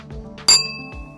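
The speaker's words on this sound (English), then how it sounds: "If you hit the glass lightly with a spoon, it will ring like a bell at its resonant frequency." A wine glass struck once lightly with a spoon gives a sharp bright ding, then rings on with a clear bell-like tone that slowly fades, alone in a quiet room.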